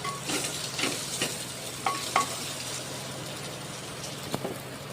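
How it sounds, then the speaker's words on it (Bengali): Washed broken wheat (dalia) frying in a pan, stirred with a spoon for dalia khichuri: soft, steady sizzling with scattered scraping and clinking strokes, fairly quiet and close. "এরপরে ডালিয়াটা ধুয়ে রেখেছি, ওটা এতে দিয়ে একটু ফ্রাই করে নেব।"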